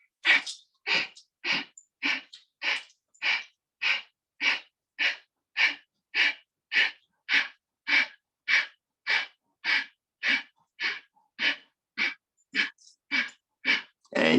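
Kapalabhati yoga breathing sounds through the nose as rapid, forceful exhalations, about two dozen sharp puffs in a steady rhythm roughly every half second, each close and distinct with silence between.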